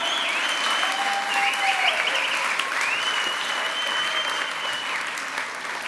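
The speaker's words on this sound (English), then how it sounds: "You guys, give yourselves a big round of applause." An audience gives a sustained round of applause after a stage performance, loud, dense clapping that fills the space steadily for several seconds with a faint whistle rising above it.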